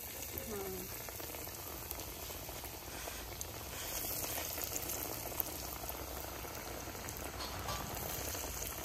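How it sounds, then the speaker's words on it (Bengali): Tuna fish pakoras frying in hot oil in a home kitchen, giving a steady, dense crackling sizzle that fills the whole stretch at moderate level, a little fuller in the second half, with faint voices in the background. "এবার দেখি তেলে ছেড়ে হালকা হালকা আছে।"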